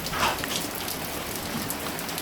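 Heavy rain pours down steadily, a dense continuous hiss of drops striking surfaces, even and unbroken, with no talking.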